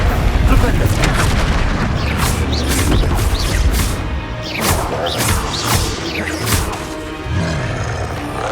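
Spell impacts from the Flipendo knockback charm in Hogwarts Legacy strike in a rapid series of loud booms and crashes, with sharp cracks repeating throughout amid combat noise and occasional voices.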